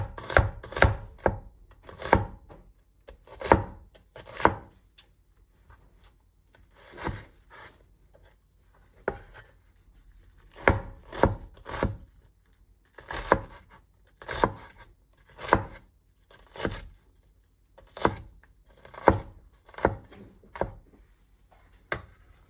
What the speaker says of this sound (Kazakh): Келесі пиязымызды ұсақтап турап аламыз.